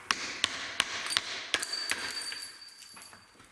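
Sharp metallic clicks and scrapes of a screwdriver cutting into a rear axle seal on a Volvo, Land Rover, Jaguar or Ford axle rebuild, about half a dozen close taps followed by a brief high metallic ring and quieter scraping.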